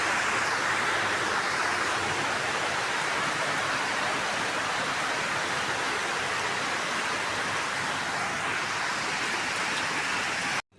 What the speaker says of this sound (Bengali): টিনের চালের ঝমঝমানি দেখেন, বৃষ্টির কি শব্দ